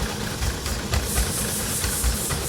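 A Toyota Avalon engine running rough with a misfire, a steady close mechanical drone with uneven low thumps and hiss throughout, no voices.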